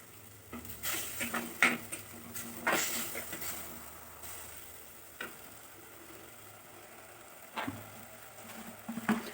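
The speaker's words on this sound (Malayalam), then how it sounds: "നന്നായിട്ട് ഇളക്കി കൊടുക്കുക." A spoon stirs a sardine mixture with salt in a bowl, making irregular soft scrapes and light clinks, fairly faint, with quiet pauses between strokes.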